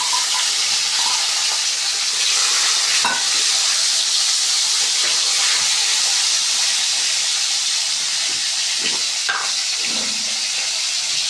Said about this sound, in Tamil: இப்போ இந்த வாழைக்காய் அவிச்சு வச்சுருந்தோம்ல, அதையும் நம்ம அந்த கடாயில் போட்டுடலாம்